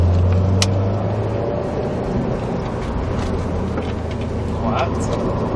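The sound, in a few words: Subaru WRX STI accelerating on track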